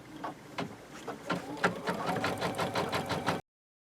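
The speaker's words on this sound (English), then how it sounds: "it's going to sew out our placement stitch for us." An embroidery machine sews an appliqué placement stitch in a hoop for freestanding 3D flowers, giving a close, rhythmic run of rapid needle thumps that quickens and steadies for about three and a half seconds before stopping.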